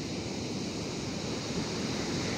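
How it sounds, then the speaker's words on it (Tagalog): Sea waves roar steadily against a flooded beach with cottages, a dense continuous wash of surf with wind noise on the microphone, close and loud with no speech. "Mainit sigaw ng dagat no."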